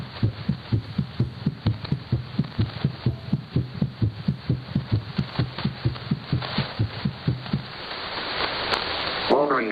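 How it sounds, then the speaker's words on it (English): A heartbeat plays over a shortwave pirate radio broadcast, a steady pulsing thump repeating about three times every two seconds through radio hiss. The beat fades into noisy static near the end. "And then I heard a heartbeat."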